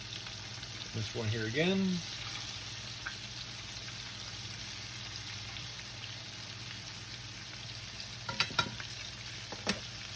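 Pieces of bear meat, cooked Asian style into crispy garlic bear, fry in a pan with a steady, moderate sizzle; a brief voice at the start, then a few sharp clinks near the end.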